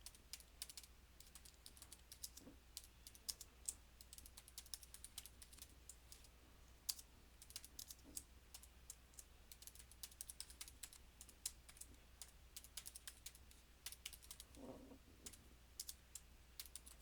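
Quiet, steady typing on a computer keyboard during a CentOS 7 software installation, with irregular clusters of light key clicks running throughout and no talking.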